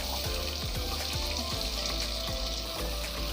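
Onions fry in hot oil for a mushroom biryani, a continuous close sizzle broken by quick scraping strokes of a spatula across the pan.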